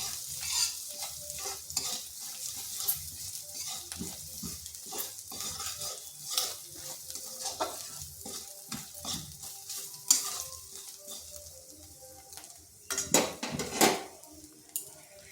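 Chilli powder and garam masala spices being stir-fried in a pan, a utensil scraping and clinking against the metal in irregular strokes over a soft sizzle, some sharper clatters near the end.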